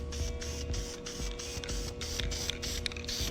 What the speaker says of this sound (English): And now I'm gonna prime it so it does not rust in the future.